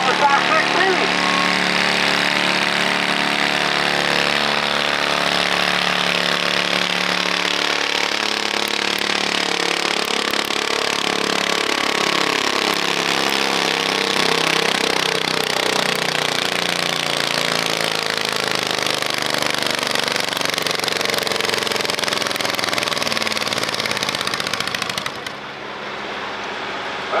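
A garden tractor engine roars steadily and loudly at a garden tractor pull for about 25 seconds, its note rising and shifting as it strains down the track, then cutting off abruptly near the end.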